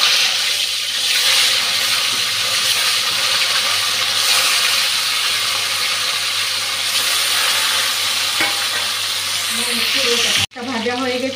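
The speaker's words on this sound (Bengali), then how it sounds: "মাছটা ভেজে নিচ্ছি।" Fish frying in oil gives a loud, continuous hiss and sizzle that runs steadily for several seconds, then cuts off abruptly and resumes with a sharp burst.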